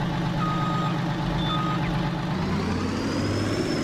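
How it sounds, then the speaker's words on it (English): A truck backing a trailer in the farming game Farming Simulator 19 sounds steady reversing beeps over a constant low engine drone, with no talking. "I should be able to back the trailer no problem right now"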